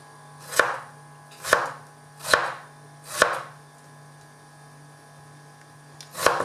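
Kitchen knife chopping onion into thin wedges on a board, five crisp separate strikes at an even pace over a low steady mains hum.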